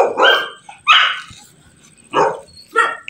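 Four sharp dog barks spaced out over a few seconds, fairly close, at a crowded city veterinary office animal shelter in Dasmariñas, with quiet gaps and faint background noise between them.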